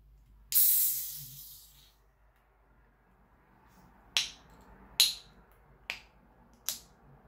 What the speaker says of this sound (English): And let's get into opening the can then.